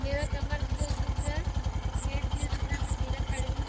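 A motorcycle rides along a road at night on a long overnight trip, its engine throbbing in a steady, rapid low pulse up close, with wind noise over it and a voice talking now and then.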